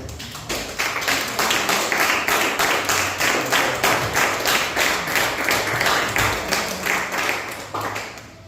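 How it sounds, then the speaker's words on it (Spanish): Congregation clapping during a Spanish-language church service, many hands striking in a steady rhythmic beat, loud and sustained for several seconds before tapering off. "Denle un aplauso al Señor."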